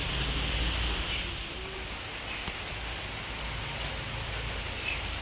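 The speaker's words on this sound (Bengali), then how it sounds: "বৃষ্টি পড়ছিল আর বৃষ্টি থামতে পারেনি" Steady rain falls with a continuous soft patter and hiss, fairly close, with occasional distinct drips.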